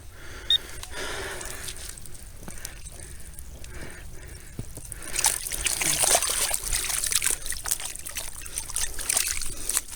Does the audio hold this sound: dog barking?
no